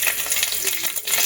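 Mustard seeds and green chilli crackle and fry in hot oil, a dense, steady sizzle with faint scattered pops, close and fairly loud throughout.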